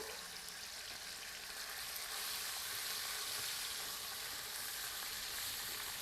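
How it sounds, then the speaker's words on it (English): Pork sizzling and frying in a pot for a small Cajun jambalaya, a steady loud crackling hiss that holds throughout with no talking. "we're gonna start frying our pork"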